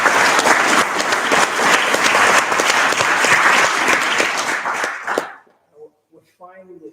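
A large audience at a left-wing political meeting breaks into dense, loud applause that holds steady for about five seconds, then cuts off abruptly, leaving silence and a few faint voices.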